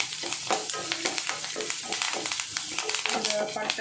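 Curry leaves dropped into hot oil in a pan over low flame, crackling and sizzling steadily up close while a spoon stirs with repeated scraping clinks, a voice speaking briefly over it.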